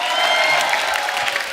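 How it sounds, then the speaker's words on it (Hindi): Studio audience applause on a Hindi comedy talk show set, a dense steady wash of many hands clapping with scattered cheers throughout, fairly loud and continuous with no clear break. "जोरदार ताली हो जाए"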